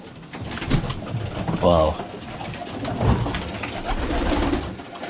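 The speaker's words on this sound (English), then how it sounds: "these are racing pigeons." Racing pigeons in a Bradford loft coo in low, throaty rolls, one burst loud and close, with other birds murmuring nearby while a person speaks briefly.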